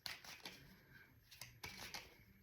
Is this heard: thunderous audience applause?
no